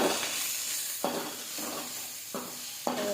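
Gongura flower chutney is stirred with salt in a pan, soft sizzling under a few sharp scraping strokes of the spoon spaced about a second apart, close up and without talk.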